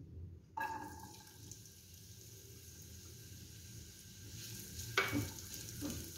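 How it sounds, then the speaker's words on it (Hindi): Onions dropped into oil in a pan over a low flame give a sudden soft hiss, then a steady faint sizzle with occasional stirring clatter and scrapes near the end, with no one speaking. "और इसमें प्याज ऐड करेंगे।"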